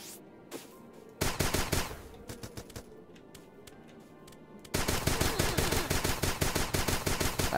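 Gunfire in the game Starbound: a few scattered shots, then sustained rapid automatic bursts in two long loud runs, with no talk.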